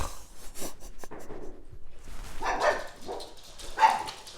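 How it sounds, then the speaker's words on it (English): Several dogs bark and yip indoors, upset by a package delivery, in repeated uneven bursts at moderate distance, louder toward the end. "I always do videos at package delivery time, and the dogs get all upset. Sorry about that noise."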